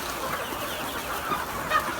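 Chickens on a farm in The Gambia clucking and murmuring softly in a busy flock, with a few brief higher calls over a steady rustling background.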